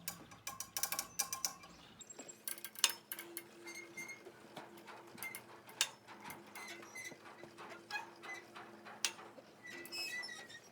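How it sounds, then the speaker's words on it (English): A cantilever boat dock is lowered by cranking its winch, giving a steady run of clicking ratchet-and-pawl ticks with metallic mechanical clatter, close by and moderately quiet, with no talking. "So just crank the dock the other way. And it's going down."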